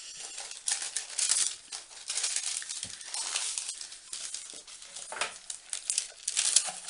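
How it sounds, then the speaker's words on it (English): Plastic packaging of a Glossybox beauty box being opened close up, with irregular crinkling and crackling bursts, some tearing, and light handling noise, fairly quiet and with no speech. "So if we open up our packaging,"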